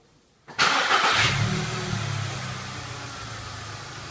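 A car engine cranks after half a second of silence, catches and starts, then settles into a steady, close idle that runs to the end with no talking.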